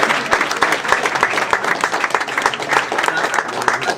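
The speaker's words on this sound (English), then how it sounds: "Let's give yourselves a round of applause because this is important." Audience applause fills a meeting hall with community members, steady dense clapping that holds at an even, fairly loud level throughout with no voices over it.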